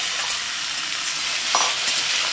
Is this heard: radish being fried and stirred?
yes